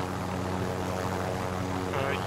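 Helicopter engine and rotor drone in Call of Duty Warzone, a steady, loud mechanical hum holding even for the whole stretch, with no break or pause.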